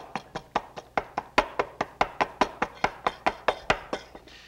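A utensil mashes food in a little bowl with about twenty quick, evenly spaced soft thuds, close and clear with no talking.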